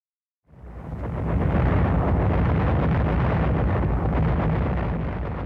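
Naval bombardment of Saipan in 1944 by battleships, heard as a sudden heavy blast swelling into a sustained deep rumbling roar that holds loud to the end.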